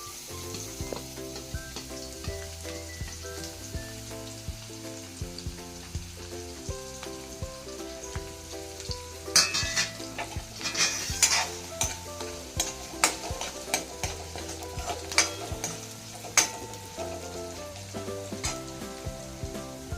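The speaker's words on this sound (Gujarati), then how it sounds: "સૌથી પહેલાં ડુંગળી સાતળી લઈશું" Close sizzling of onions sautéing in a pan after a cumin tempering, building to busier crackling and stirring scrapes midway, with music playing underneath.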